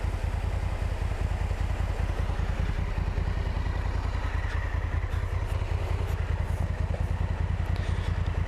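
A Honda Africa Twin motorcycle idles after stopping on a dirt track, a steady, loud, close-up engine thrum with rapid rhythmic pulsing and slight clatter, unchanging throughout.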